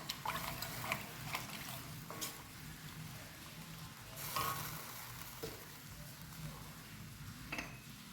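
Dates simmering in a cup of water for a sweet dish, giving a soft, steady bubbling and faint sizzle with occasional light clinks throughout, fairly quiet and close.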